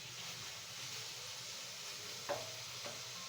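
Chicken browning in a pan gives a soft, even frying hiss with one or two brief stirring clinks, quiet and close, with no voices.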